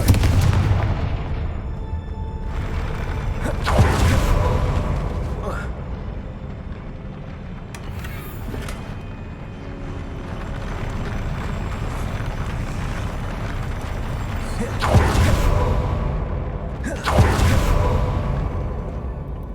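Confringo blasting spell explosions in the video game Hogwarts Legacy, several sharp booming blasts spaced irregularly over a steady low rumble of game ambience.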